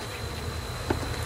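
Angry honeybee hive, a steady close drone of many buzzing bees with one louder bee passing near.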